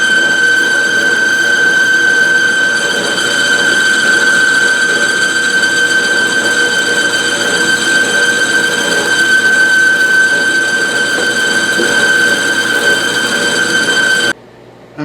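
A metal lathe taking heavy boring cuts with a long boring bar gives a loud, steady, sustained tonal whine with a strong ringing pitch and constant machining noise, running alone until it stops abruptly near the end.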